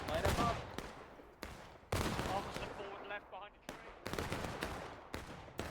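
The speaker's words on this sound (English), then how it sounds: "this round's kind of just been a shootout" Gunfire in a Civil War–era video game battle with muzzle-loading rifles, heavy overlapping volleys and scattered single shots cracking in sharp bursts, some near and loud, others distant, with a voice talking over it.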